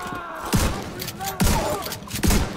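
Shotgun blasts in a first-person shooter game, three loud booming shots spaced about a second apart, each with a sharp broadband attack, over quiet background ambience.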